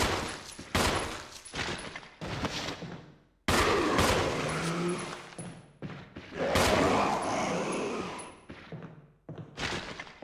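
Handgun shots fired at a Crimson Head zombie in the Resident Evil REmake game, a series of sharp, separate loud bangs spaced a second or so apart, each with a short ringing tail and impact thuds.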